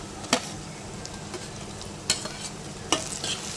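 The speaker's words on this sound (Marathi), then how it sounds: "आणि टोमॅटो पण आपण थोडा मऊ होईपर्यंत परतून घेऊया" Tomatoes stirred into a pan of reddened onion and green chilli, a soft continuous sizzle broken by three sharp scrapes of a spatula against the pan.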